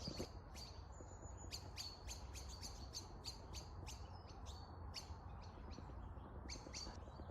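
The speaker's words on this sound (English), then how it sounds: "There's nothing like the sound of birdsong in the morning, is there?" Birds chirp and tweet in short repeated bursts over a steady, low background hum, fairly faint and outdoors in the morning at the ruins of The Hermitage, Standish, Wigan.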